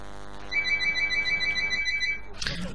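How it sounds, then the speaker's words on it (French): A telephone rings in a house, giving a repeated electronic warble that trills in a steady rapid pattern before cutting off, followed by a brief rustling noise. "Excusez-moi pour le bruit du téléphone."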